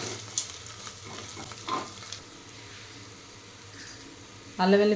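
Onion paste frying in a pan for mushroom biryani gives a steady low sizzle throughout, with a few scattered clinks and a louder stir or scrape near the end.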